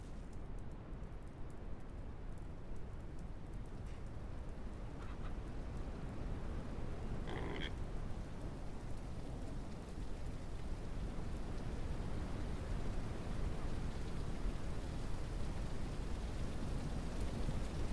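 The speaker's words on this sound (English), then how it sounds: "Sounds like a storm's starting up again." Storm rain in the video game Ranch Simulator, a steady faint downpour hissing continuously with a soft distant rumble and no talking.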